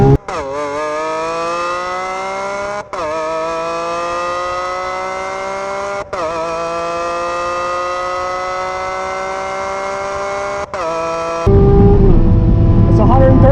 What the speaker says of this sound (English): Top speed in a 2012 Lamborghini Aventador.